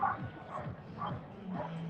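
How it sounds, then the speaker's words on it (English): Dogs at an outdoor 5K race course bark in short yips and bow-wows, three or four faint barks spaced out amid crowd noise, distant and quiet. "I hear some barking"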